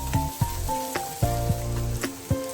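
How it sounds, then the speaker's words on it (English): Chola dal ingredients sauté in a pan with a steady sizzle, while utensil scrapes and stirring knocks land roughly every half second to second, close and moderately loud. "we'll just saute it for some time"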